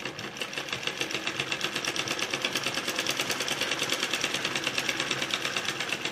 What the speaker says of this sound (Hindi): और अब इसे सीधी सिलाई लगाएंगे।